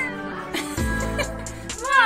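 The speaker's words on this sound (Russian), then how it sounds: "Ну, скажи нам еще мяу" A cat meows several times indoors at close range, with short rising and falling cries mixed with a person talking over it.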